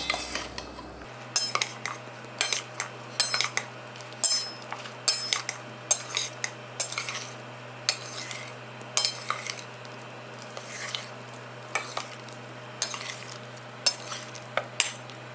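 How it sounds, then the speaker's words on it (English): A creamy fruit salad is mixed in a bowl with a spoon, giving a steady series of light clinks and scrapes against the bowl at a fairly even rhythm, close up, with a low hum underneath. "And now we will mix it well."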